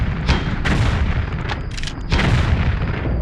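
Several sharp gunshots ring out in quick, irregular succession as Lara fires in the Tomb Raider video game, with loud booming reports over a dense background din.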